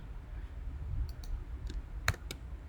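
Mouse clicks from someone working in an image editor, a few sharp, close clicks scattered over a low background hum, with one louder double click near the end.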